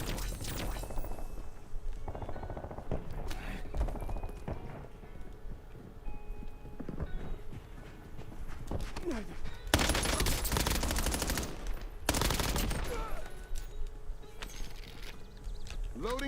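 Gunfire from the video game Black Ops 7 comes in rapid bursts, with two especially loud volleys later on, over busy game sounds and background noise.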